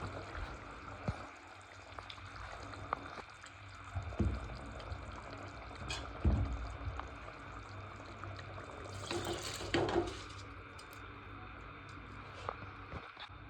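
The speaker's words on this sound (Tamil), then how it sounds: "அரிசி போட்டாச்சு." Soaked rice is poured into boiling water for chicken biryani in a pot, making soft watery splashes and trickles with faint clinks over a quiet bubbling background.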